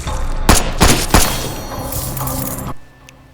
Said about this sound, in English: whenever you open fire on these monsters with your firearms, the bullets and recoils feels like it has this